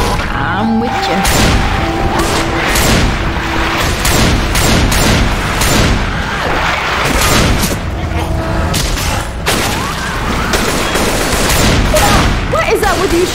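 Video-game gunfire keeps up nearly without pause: loud, close bursts of automatic fire and heavy booming shots piling on each other, with voices talking over the battle.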